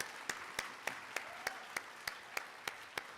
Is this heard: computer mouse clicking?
no